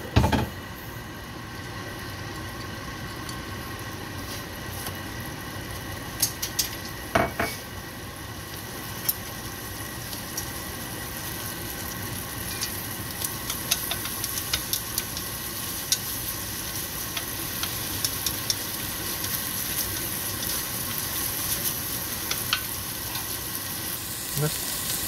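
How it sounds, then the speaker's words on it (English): Black beans, garlic, ginger and shallot sizzle steadily in a hot wok, a continuous close frying hiss broken by occasional clinks and stirring taps, with no talking over it. "brown the black bean, garlic, ginger, and the shallot"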